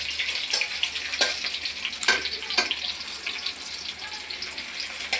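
Onions sizzle and crackle in hot oil in a pan at the start of a water lily (shapla) dish, a steady soft frying hiss broken by a few sharp clicks of a spoon.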